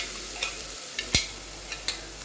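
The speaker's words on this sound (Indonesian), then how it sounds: "Setelah bawang halus, tumis bawang hingga matang." Ground onion paste being sautéed in a pan, a faint low sizzle with a few soft scraping stirs and one sharper clink of the utensil.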